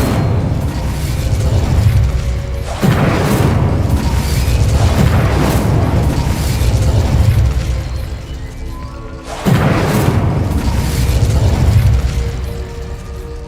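Incendio fire spells cast in Hogwarts Legacy, loud whooshing blasts of flame that surge and roar, with a mechanical rumble underneath and two sharp onsets several seconds apart.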